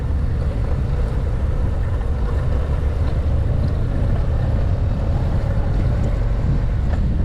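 Harley-Davidson Street Glide CVO 2023 with its 121 engine running under way, a steady low rumble mixed with wind roar, continuous and loud throughout.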